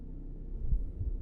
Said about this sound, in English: I hear the heartbeat, but it's not moving like a heart